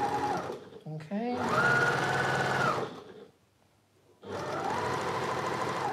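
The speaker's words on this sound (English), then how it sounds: "We're just going to sew in the other direction." A sewing machine stitches quilt blocks in two sustained runs of fast, whirring needle motor, close and clear, with a short pause between, while a person talks over it.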